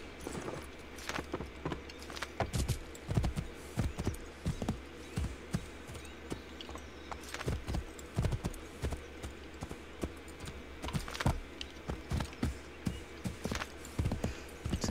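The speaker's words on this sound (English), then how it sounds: "Can I ride this horse?" Horse hooves in Assassin's Creed III, a steady clip-clop of galloping that runs throughout, close and fairly loud, with brief faint voice now and then.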